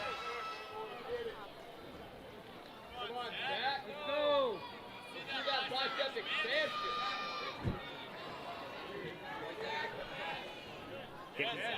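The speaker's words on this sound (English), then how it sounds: "Getting good cheers from the crowd." Crowd cheering and shouting at an obstacle course competition, a steady lively roar with rising whoops and whistles, heard under continuous commentary.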